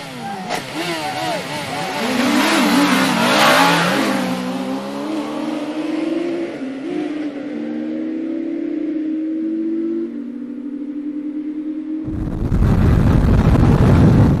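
A high-horsepower heavyweight motorbike such as a Yamaha R1 sweeps through bends, its engine rising and holding a loud revving note as it passes near, then fades before a burst of wind noise.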